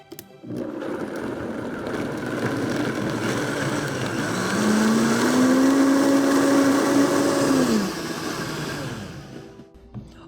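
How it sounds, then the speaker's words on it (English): A high-speed blender whirs through a plant-based gravy, a steady motor drone lasting about ten seconds whose pitch climbs and holds before easing back down near the end. "you can put a top on it and just blend till smooth, probably in a high-speed blender, about 30 to 45 seconds"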